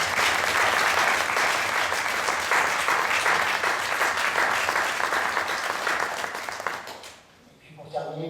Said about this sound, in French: je souhaiterais vivement que l'on applaudisse l'ensemble de nos personnels